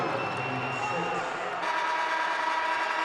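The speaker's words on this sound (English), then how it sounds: "David Zizek has fired up his crowd and his team." A crowd at a high school boys basketball semifinal in a gym keeps up a continuous roar that swells louder partway through. It sounds fairly full and steady, with no single voice standing out.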